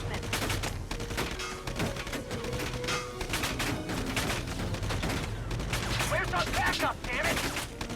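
Machine gun fire rattles in Valkyria Chronicles 4, a steady stream of fairly quiet rapid shots with music underneath for the whole stretch.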